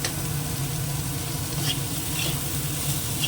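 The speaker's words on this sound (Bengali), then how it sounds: "এবার একটু ভেজে নিয়ে এটা" Vegetables sizzling steadily in a pan after salt and turmeric are added, a dense, even frying hiss close up with faint stirring scrapes, no talking.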